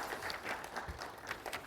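Applause from an audience at an academic society award ceremony, a faint, distant patter of clapping from a modest group, sparse and uneven over a short stretch.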